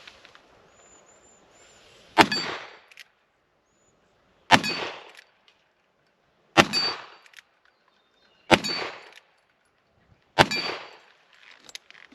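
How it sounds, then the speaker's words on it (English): Five shots from a Pietta 1873 single action revolver striking steel plates, each a sharp, ringing metallic clang followed by a short decay, spaced about two seconds apart with quiet gaps between. "So let's do some shooting with the Dead Man's Handgun."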